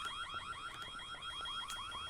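A loud, insistent electronic alarm in the 2001 horror game White Day beeps in a rapid repeating warble, steady and piercing throughout with no talking.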